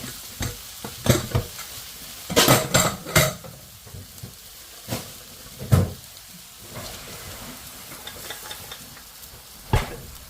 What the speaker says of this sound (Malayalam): നമ്മൾ വേവിച്ച് വെച്ചേക്കുന്ന നമ്മുടെ സോയാബീൻ ഇട്ട് കൊടുക്കാവേ